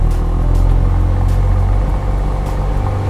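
A 2018 Audi RS5 in sport mode, its engine holding a loud, deep, steady rumble at raised revs from close by, with no voices.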